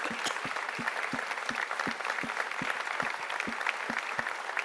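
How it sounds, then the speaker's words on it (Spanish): A church congregation breaks into sustained applause, steady clapping filling the space with a rhythmic beat running through it, no voices standing out. "demos un aplauso a Jesucristo."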